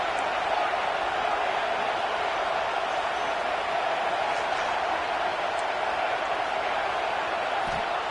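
Broad, steady stadium crowd roar from the NCAA 26 college football video game, a constant wash of distant massed voices that holds at one level for the whole stretch without clear peaks.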